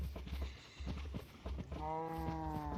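Cows moo in the Minecraft video game, a few short low calls followed by a longer drawn-out moo near the end, heard over soft footsteps and clip-clop sounds.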